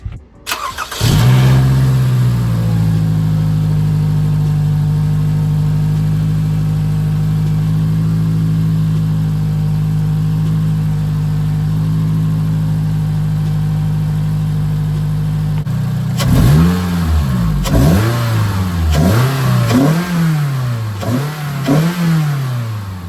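A 2011-2016 Scion tC engine fitted with an Injen short ram air intake starts up and idles steadily, then revs up and down several times in quick rising-and-falling bursts, loud and close.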